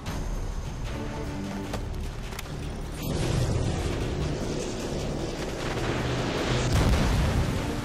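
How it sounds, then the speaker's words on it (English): Missile explosions in Modern Warfare 2: a deep, sustained rumble of blasts that swells partway through and stays heavy and loud, with no voices over it. "Incoming missiles online."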